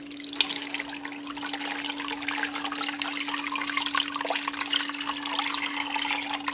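Melted rendered lard is poured through a wire mesh outdoors, giving a continuous liquid trickle and splatter over a steady low electrical hum.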